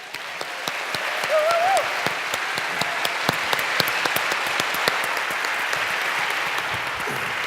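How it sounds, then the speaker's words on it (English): An audience at a live talk on the world of work breaks into loud, sustained applause for the speakers, a dense steady wash of clapping with a brief voice over it early on. "can I just ask you to give a round of applause for both of our speakers tonight."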